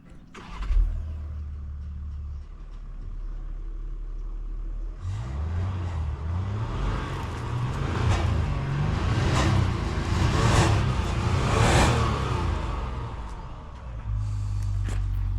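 A Range Rover Sport's big engine starts and then revs, a rising, rumbling roar that swells in several pulses before settling back to a steady idle, close and fairly loud.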